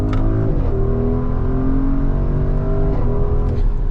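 Porsche Cayenne hybrid V8 in Sport mode accelerates hard with a loud, close engine roar, rising revs and a gear shift around midway, steady and continuous with no talk.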